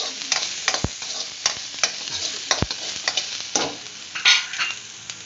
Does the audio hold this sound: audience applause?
no